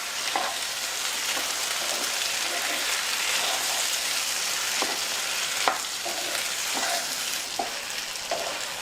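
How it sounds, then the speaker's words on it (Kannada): Soaked sabudana (tapioca pearls) stirred and fried in a pan, giving a steady close sizzle with a scattering of soft stirring scrapes and taps throughout. "ಈಗ ನೋಡ್ರಿ ಇವು ಫುಲ್ ಕಲರ್ ಚೇಂಜ್ ಆಗೋವರೆಗೆ ಫ್ರೈ ಮಾಡ್ಬೇಕಾಗ್ತೈತ್ರಿ."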